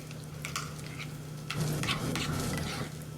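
Homemade burger sauce with relish, Dijon mustard and a touch of apple cider vinegar stirred in a bowl, producing soft, close scraping and mixing sounds over a low steady background hum.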